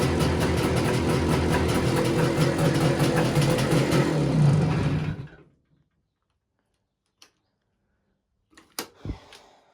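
An Izh Jupiter motorcycle engine idling close and loud with a steady rough putter for about five seconds, then cutting off into near silence broken by a few faint clicks and knocks.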